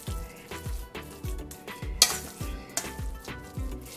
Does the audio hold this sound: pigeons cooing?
no